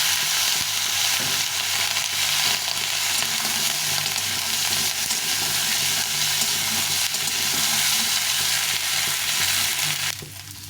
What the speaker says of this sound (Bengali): সরনাটা একটু ভেজে নেবো ভেজে নিলে খেতে ভালো লাগে